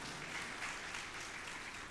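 Sustained applause from an audience at a spiritual lecture festival in Nasik, a steady even wash of clapping throughout with no voices above it.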